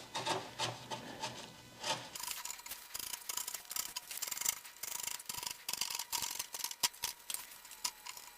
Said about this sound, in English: this again is just going to be a little judicious and rattly trimming with a razor blade